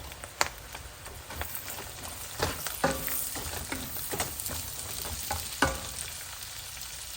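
Garlic, onion, carrots and beans sizzling in a pan for pansit guisado, a steady frying hiss broken by sharp clinks and scrapes of stirring.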